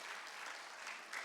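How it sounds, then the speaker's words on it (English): A comedy show audience claps loudly for the helpers, a dense, steady wash of many hands that swells slightly near the end. "Clap loud for my helpers"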